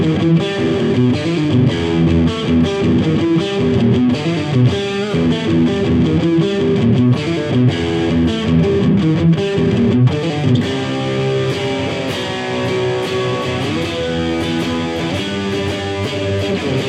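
Heavily distorted riffing on a Pisariez PS-123 electric guitar with a full band, dense and loud throughout with steady driving rhythm.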